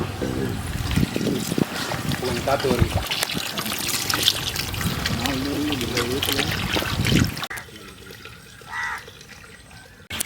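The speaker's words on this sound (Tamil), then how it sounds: "அப்போ 3 லிட்டர் தண்ணி ஊற்றணும்." Water poured from a 1-litre bottle into a cooking pot for prawn biryani, a steady gurgling trickle heard under close conversation, ending abruptly partway through.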